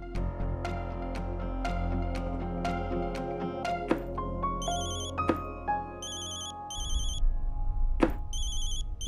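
A telephone rings with a melodic, chiming ringtone that repeats, then shifts into trilling electronic bell bursts; no talking.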